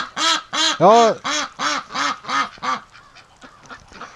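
Rouen ducks quack loudly and close in a rapid run of about nine evenly spaced honking calls, then fade to quieter scattered sounds while a person murmurs briefly.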